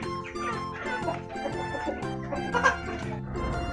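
Red native Indonesian chickens cluck steadily at close range, with a rooster among them, over continuous barnyard background noise and occasional louder calls.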